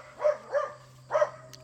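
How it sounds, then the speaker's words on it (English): Dogs bark three times, with two quick barks and then a single one after a short pause, at moderate distance over a low steady hum. "Dogs."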